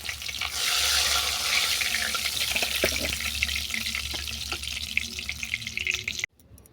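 Sating fish frying in hot oil, a loud steady broadband crackle and sizzle that runs nearly unbroken with occasional sharper pops, then cuts off abruptly near the end.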